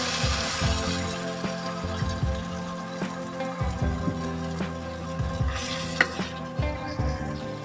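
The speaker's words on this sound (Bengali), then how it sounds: "আর এর মধ্যে দিয়ে দেব আমরা 1 কাপ পরিমাণ দুধ" Milk poured into cauliflower korma on high heat produces a continuous bubbling, sizzling wash with intermittent soft pan knocks and clinks throughout, close and moderately loud.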